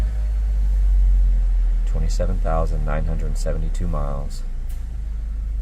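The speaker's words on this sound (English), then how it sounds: "Okay, we're going on a quick test drive here." A Land Rover Discovery Dynamic SE on a test drive gives off a constant low cabin rumble of engine and road noise, with someone talking over it in the middle.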